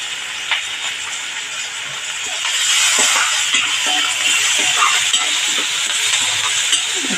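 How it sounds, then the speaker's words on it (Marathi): Onion sautéing in a pan for a wild leafy vegetable dish, a steady soft sizzle and hiss that swells slightly midway and carries on evenly with small crackles, no voices over it. "हा छानपैकी कांदा जरा परतून घेणार"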